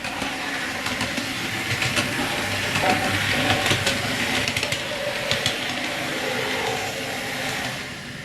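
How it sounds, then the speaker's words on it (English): An OO gauge model railway locomotive, running on traction tyres, travels steadily along the track with a continuous mechanical hum and light rail clicks at a moderate, even level throughout, with no voices. "Great little locomotive, this runs really well."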